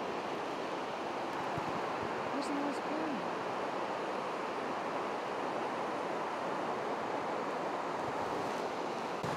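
The river rushes through Hokitika Gorge in the rain as a steady, broadband roar of flowing water that continues evenly throughout, with a brief faint tonal sound partway through.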